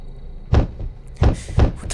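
Something banging on a door in the horror video game Skinwalker, three loud heavy thuds at uneven intervals, close and booming against a quiet background.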